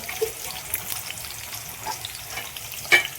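Onion and asafoetida dropped into hot oil tempering with garlic for dal, a faint steady sizzle with light stirring and a small clink near the end.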